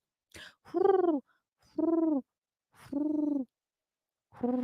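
A human voice mimics a pigeon with four evenly spaced, rounded cooing hoots, each about half a second long with short pauses between, close and clear with no other sound.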